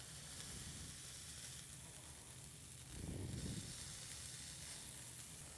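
A sqworm burger patty frying in a pan, giving a soft, steady sizzle that swells briefly in the middle before settling back to a quiet hiss.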